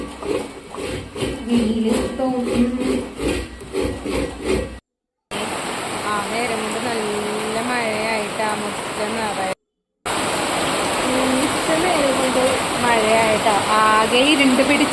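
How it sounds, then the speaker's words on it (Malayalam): Steady, dense roar of heavy rain pouring down close by into a house courtyard, broken by two brief silent gaps, with faint voices now and then beneath it. "നല്ല മഴയാണ് മുറ്റത്തേക്ക"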